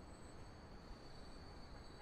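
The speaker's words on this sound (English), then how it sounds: "Okay, so the train comes in." A train pulls into a station in the video game Transport Fever 2, heard as a quiet, even rolling hiss and rumble of the rails with a faint high whine, no speech over it.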